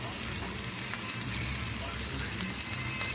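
Ivy gourd fries in oil with chili powder, a dense, even sizzle and crackle that runs steadily throughout, close up with a low background hum and no speech.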